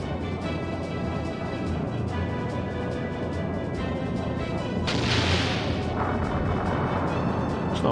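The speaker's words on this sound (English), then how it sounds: "It's not bad damage for secondary cannons." Secondary cannons fire from an airship in the video game Skies of Arcadia Legends: a dense, steady barrage of booming, rumbling blasts, with a brighter crashing burst partway through and no talk over it.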